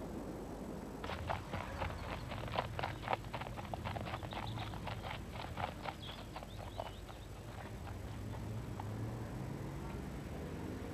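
Horses' hooves clip-clop steadily along a town road, a brisk run of sharp close knocks that thins out and fades toward the end, with faint background noise and no talk.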